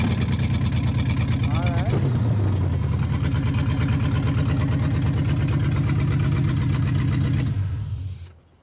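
An LS-swapped Oldsmobile Cutlass with straight headers and no exhaust runs loud and close, a raw, choppy, pulsing roar with a rough, lumpy idle that holds steady before cutting off abruptly near the end.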